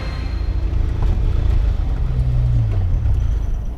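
A DeLorean car engine idles with a steady low rumble, close and continuous, with a slight rise in pitch near the end.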